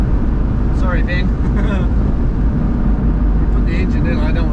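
A Suzuki Carry engine idles and revs in a dense low rumble on a cold start, loud and close, while people talk over it.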